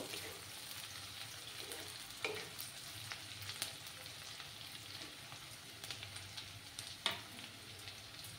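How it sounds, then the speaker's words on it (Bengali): Panch phoron five-spice seeds fry in oil on a low flame, giving a soft, steady sizzle with scattered faint crackles and a few sharper pops. "হাফ স্পুনের মতো একটু 5 ফোড়ন দিলাম, দিয়ে ভালো করে একটু ভেজে নেব"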